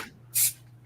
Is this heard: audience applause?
no